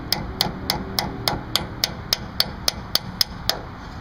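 Brake parts on a 1980 Ford F100 being tapped into place, a steady series of about fourteen sharp metallic taps at an even rhythm, close and clear.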